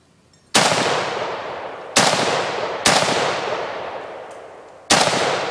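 Four separate loud AK-47 rifle shots ring out at an outdoor range, each sharp crack decaying into a long echo, spaced irregularly over a few seconds with no talking.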